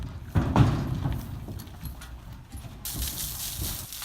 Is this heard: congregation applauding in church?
no